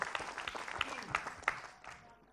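A studio audience at an Indonesian Islamic television program claps in a brief, moderately loud round of applause that tapers off toward the end.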